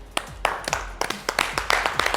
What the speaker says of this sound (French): Plus d'applaudissements, s'il vous plaît